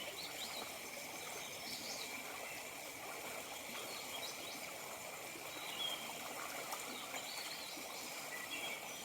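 Cold Lick Creek water flowing steadily around hikers wading across at mid-calf depth, a continuous close trickling rush with faint bird calls in the background.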